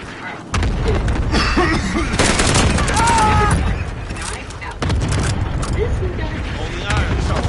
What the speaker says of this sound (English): Bringing down an airstrike. That's what. Cluster strike is active.